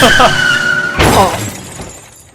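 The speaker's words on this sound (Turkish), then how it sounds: "Galiba arabanın farını kırdım." A car headlight shatters in Roblox Jailbreak, a loud glassy crash arriving abruptly after a tonal engine-like whine, with tire skidding and the rattle of debris trailing off.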